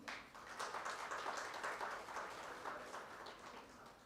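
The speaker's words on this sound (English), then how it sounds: "A round of applause for him, please." Audience applause at the Times Gujarat Icon Awards panel discussion, a steady wash of many hands clapping for the first panel speaker, moderately loud and sustained throughout without talk.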